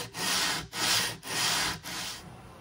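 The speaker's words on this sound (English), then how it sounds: "I'll go back and sand this off with some coarse sandpaper." Coarse sandpaper is rubbed over wood veneer on a Crosley 5V1 radio cabinet in four long back-and-forth strokes, each a close, loud, gritty rasp with brief gaps between. No voices.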